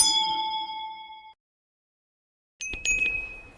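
A bright metallic bell dings once and rings out clearly before cutting to silence. A second, shorter clanging ding follows after the pause.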